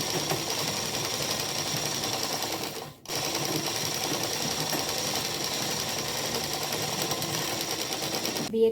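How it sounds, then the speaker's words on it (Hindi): A sewing machine stitches a salwar seam in a steady, fast mechanical whirr, close and continuous, with one brief pause near the start and no talk. "अब यहाँ से हमें आगे नीचे की तरफ सिलाई लगानी है"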